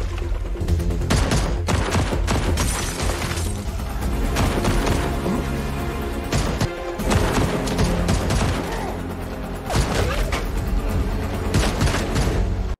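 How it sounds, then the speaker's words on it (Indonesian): Film gunfight with dense bursts of rapid gunshots and booming impacts, loud and sustained, layered with cinematic sound effects and score. "Travis dapat menembak dan mengenai semua anak buah Robinson."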